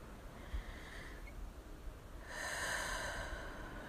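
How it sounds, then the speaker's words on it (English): A soft, close breath is drawn in quietly, then a longer, airy exhale follows, gentle and hushed with no voices. "I'm exhaling with you"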